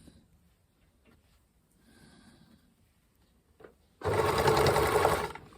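After quiet moments of soft handling, a domestic sewing machine starts abruptly and runs fast and loud, stitching steadily through a bulky fabric hem.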